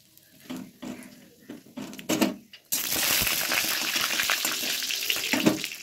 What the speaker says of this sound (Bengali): দিয়ে ঘি দিলাম আর এখানে দিব গোটা গরম মশলা।